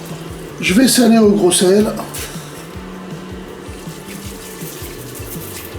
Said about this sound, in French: je vais maintenant couvrir à hauteur avec de l'eau chaude